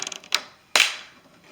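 BMW 328i CV axle shaft pulled out of the transmission, a short metallic clunk and scrape followed by a louder sharp clack that rings briefly, close by.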